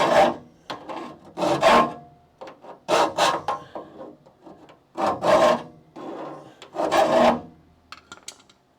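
Metal file rasping back and forth over a part from a Chrysler Charger crew cab restoration, in long rhythmic strokes, about six to seven passes, close and loud with brief pauses between.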